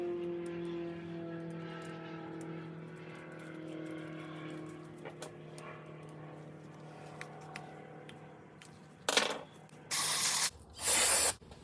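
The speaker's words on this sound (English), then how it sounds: "Gotta bless it with brake cleaner every time." Brake cleaner is sprayed onto a Harbor Freight jack in three short, loud hissing bursts near the end, following a quieter stretch of faint engine-like hum.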